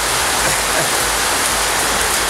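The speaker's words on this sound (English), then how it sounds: "Hear the rain?" Steady rain falls outdoors in a broad, unbroken hiss that stays loud and even throughout, with no voices.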